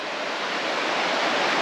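Clear water rushes through rainforest in Far North Queensland, a loud, steady broadband roar close by that swells slightly and carries no voices.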